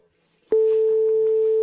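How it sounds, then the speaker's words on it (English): A 440 Hz A note from a tone generator app on a phone connected to a speaker starts abruptly after a brief quiet moment and then holds as a loud, steady, pure tone. "I will play a frequency of 440 Hz."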